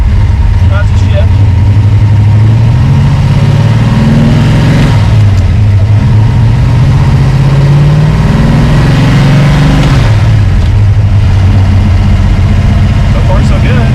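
A car engine runs loudly and close while the gears of a Tremec TKX transmission are shifted, the pitch rising and falling in repeated swells as it revs between shifts.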